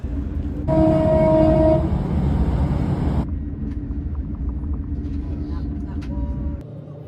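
Steady low rumble of a train interior in motion, with clattering and a brief tonal whine early on, continuous throughout.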